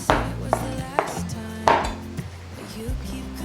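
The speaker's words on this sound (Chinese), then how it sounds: "香菇泡软了，挤干水分，来切成条状。" A knife chops soaked, squeezed-out shiitake mushrooms into strips on a cutting board, giving a few sharp, close taps spaced irregularly over a low background.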